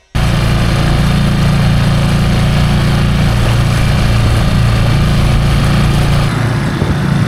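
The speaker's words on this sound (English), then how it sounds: "get the engine fired up and get out there" A small fishing boat's outboard engine fires up and runs at a steady, buzzing idle, loud and close, continuing without pause for several seconds.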